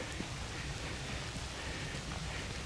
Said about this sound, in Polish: Tylko trochę pada, więc muszę co chwilę chować kamerę pod kurtkę, żeby mi nie zmokła.